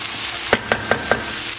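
Onions sauté in a pan with a steady close sizzle, while four evenly spaced tapping knocks of a utensil pressing them sound over it.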